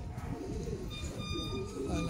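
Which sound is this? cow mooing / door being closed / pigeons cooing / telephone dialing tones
pigeons cooing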